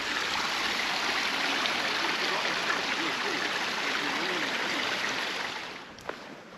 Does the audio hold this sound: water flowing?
yes